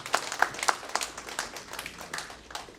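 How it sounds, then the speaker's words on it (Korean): Light applause from a small audience at an academic conference, soft scattered claps with quiet sharp hits, fairly faint and brief. "큰 박수 부탁드리겠습니다."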